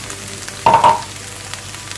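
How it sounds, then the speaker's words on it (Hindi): Minced meat fries in a pan, a brief burst of sizzling rising for about half a second near the middle, with quiet kitchen background before and after. "कीमे को अच्छे से भूनते हैं ताकि इसकी स्मेल ख़त्म हो जाए"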